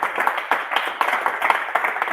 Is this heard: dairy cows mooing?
no